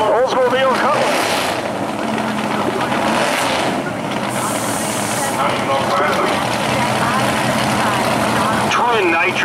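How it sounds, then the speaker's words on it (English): A G-body drag car sits in the lane with its engine rumbling loudly while its twin nitrous system purges in a brief hiss, all under a public-address announcer talking over the noise. "Twin nitrous being purged on the G-body in the Alston lane."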